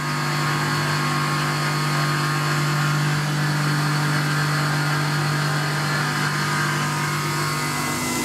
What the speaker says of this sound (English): Cuts beautifully though. I really like this 3-flute half-inch carbide rougher.